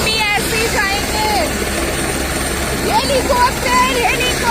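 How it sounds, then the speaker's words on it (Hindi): Helicopter rotor and engine noise after a landing in windy, snow-covered mountains, a steady broadband roar running throughout, with several voices talking and calling out over it. "helicopter helicopter helicopter helicopter"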